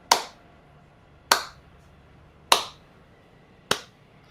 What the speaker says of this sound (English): You hear a slow clap begin to build.